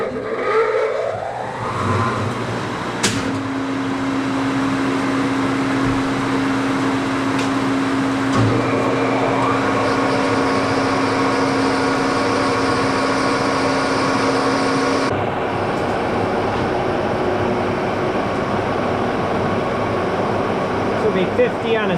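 A phase converter runs in a shop with a steady electrical hum and drone throughout, under faint background noise with a few clicks, while someone talks over it.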